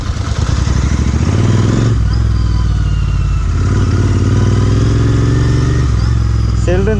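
A Royal Enfield Interceptor 650 motorcycle fitted with a MotoWings performance exhaust runs loud and close, its throaty twin-cylinder rumble pulsing steadily throughout with slight shifts in pitch.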